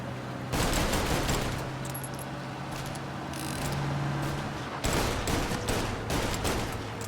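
Gunfire in the video game Mafia Definitive Edition: rapid bursts of automatic shots in two dense volleys, separated by a short lull with a droning hum, loud and close.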